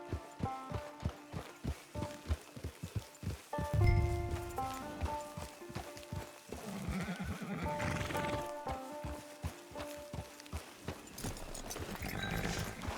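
A horse in the Red Dead Online video game trots with rhythmic clip-clop hoofbeats, then gives a loud whinny and snorts. Steady hoof falls continue afterward along with a lively game soundtrack.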